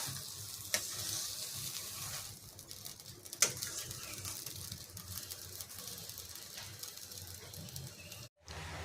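Garlic and asafoetida kochuri filling with mixed spices frying as it dries in a kadai, with a steady close sizzle and occasional sharp scrapes and clicks of the spoon stirring against the pan.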